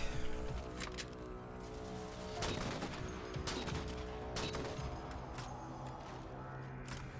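Gunfire in Halo Spartan Ops on Legendary, a continuous dense exchange of rapid shots with several sharper close bangs standing out above the steady clatter.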